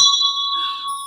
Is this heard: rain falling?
no